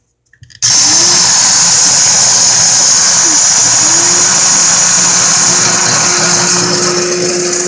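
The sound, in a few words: electric coffee grinder grinding coffee beans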